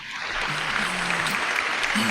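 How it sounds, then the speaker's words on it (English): An audience at a live show applauds their host in a steady, even wash of clapping that runs throughout, with a low voice briefly murmuring beneath it. "guys, hold the applause."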